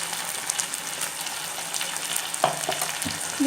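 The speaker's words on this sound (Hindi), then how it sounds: "इसे मिक्स करके हमें चलाते हुए तब तक के फ्राई कर लेना है" Chicken fries in a pan with cashew and almond paste, a steady crackling sizzle with a few scraping stirs of a spoon, no talking.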